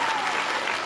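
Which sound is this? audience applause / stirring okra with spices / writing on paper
audience applause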